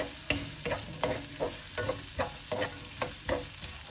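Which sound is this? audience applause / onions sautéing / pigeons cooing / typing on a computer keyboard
onions sautéing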